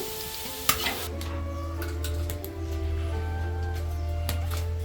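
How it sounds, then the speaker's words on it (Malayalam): Quail pieces bubble and sizzle in deep hot oil, a steady frying hiss with a clatter of utensils near the start, nearby and moderately loud. "ഇതുപോലെ നമുക്ക് മൊത്തം നല്ല റെഡിക്ക് വറുത്ത് കോരിയെടുക്കാം"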